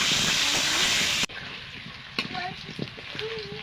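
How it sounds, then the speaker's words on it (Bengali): Potatoes with turmeric and salt frying in a pan, a loud, dense hiss for the first second that then drops to a softer, steady sizzle with a few clinks of stirring, close by; a voice speaks faintly over it. "আমি আলুটা একটু ভাজা করে নেব"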